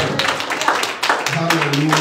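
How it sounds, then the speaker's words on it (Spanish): Congregation clapping during a Spanish-language young married couples' church service, quick uneven claps mixed with voices calling out, with a sustained tone entering toward the end. "Den un aplauso lindo"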